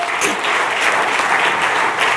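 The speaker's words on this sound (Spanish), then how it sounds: "Dele un aplauso al Señor, por favor." A church congregation applauds together during a Spanish-language sermon, a dense, steady wash of clapping that stays loud and even throughout with no pause.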